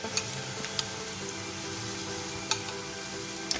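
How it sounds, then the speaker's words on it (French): Couscous sauce with tomato paste sizzling in a pan, a steady soft frying hiss with a few sharp clicks of a utensil knocking against the pan as it is stirred, close and fairly quiet. "on continue à remuer pour pas que ça colle"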